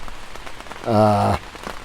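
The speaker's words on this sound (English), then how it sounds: "I'm going to wait for the rain to end" Steady rain patters on a canopy at a campsite, a continuous close hiss throughout, briefly overlaid midway by a short, loud, tonal, voice-like sound.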